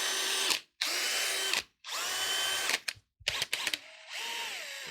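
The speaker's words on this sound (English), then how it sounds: "Dewalt does have a very powerful big hammer drill like this" A DeWalt cordless hammer drill runs in several loud bursts, whining up and down in pitch with brief pauses between triggers.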